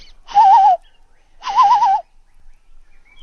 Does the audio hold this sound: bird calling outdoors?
yes